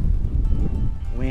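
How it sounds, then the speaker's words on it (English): Gusty wind near Lake Okeechobee buffets the microphone in a low rumble while bass fishing, with a voice speaking briefly at the very end. "It's windy."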